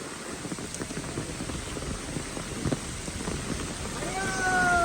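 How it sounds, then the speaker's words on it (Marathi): Heavy rain pours down outside a temple of Ekvira Aai, a steady wash of falling water with a brief faint tonal whine near the end and no clear talk. "पाऊस जोरात आला."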